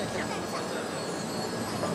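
A JR East E7-series Hokuriku Shinkansen train rolls steadily into a Tokyo Station platform with a constant heavy rumble and a faint wheel squeal; a muffled announcement voice is barely audible beneath.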